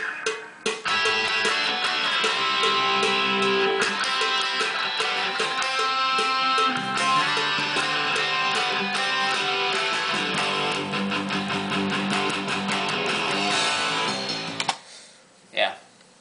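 A distorted electric guitar plays an intro riff, a busy, dense rhythmic part that runs steadily and ends abruptly, followed by a moment of near silence.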